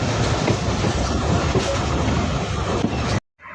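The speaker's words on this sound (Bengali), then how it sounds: "আমাদের ট্রেন প্রবেশ করতেছে বাংলাদেশ ও ভারতের সীমান্তবর্তী একটি railway station, Hili railway station." A train rolls into Hili railway station on the Bangladesh–India border, with loud, continuous rumble and wheel clatter close by, ending abruptly.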